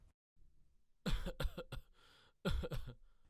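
A man coughs in a dubbed movie scene: a soft breath or throat sound, then two loud, close bursts of several harsh coughs each, separated by a short pause.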